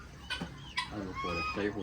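Chickens clucking in a coop at a Felda settler's farm in Malaysia, a few short calls and clucks close by, with background chatter and a person talking partway through.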